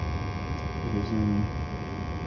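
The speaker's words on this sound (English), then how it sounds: "The blower motor is on, so we're running." A furnace blower motor runs during a combustion safety test on a failing furnace, giving a steady low hum with a faint electrical buzz throughout, with a voice under it.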